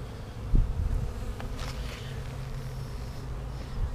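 Honey bees buzz around a Flow Hive during a comb repair check, a steady close insect drone with a low hum and occasional brief louder passes near the hive.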